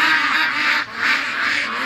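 Ducks quack in loud, overlapping bursts as they are let out of their pen, the nasal calls close and continuous with a brief lull midway.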